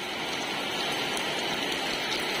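Steady rain falling on freshly laid cement outside a house doorway, a continuous close hiss of dense drops with no breaks and no voices.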